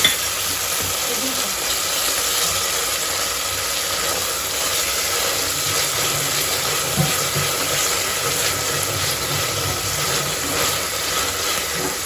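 Ginger garlic paste, half a spoonful, frying in a pan, giving a steady, dense sizzle that holds evenly throughout, with faint scraping and clinking in the background.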